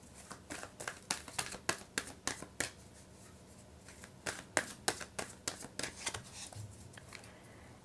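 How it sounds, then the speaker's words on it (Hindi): Tarot cards being shuffled by hand in quick riffling bursts, a run of sharp crisp flicks, a short pause, then another burst of rapid flicks, close and fairly quiet with no talking. "एक बार और शफल कर लेते हैं।"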